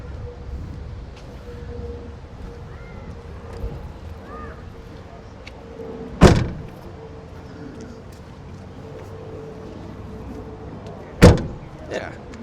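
The rear barn doors of a Farizon Supervan electric van swing open and close, with two sharp, loud metallic slams several seconds apart against a quiet outdoor background.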